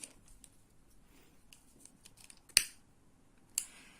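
Scissors cut through nylon cord during a crochet mini bag project. Two crisp, close snips land about a second apart against a quiet room background, with no talking.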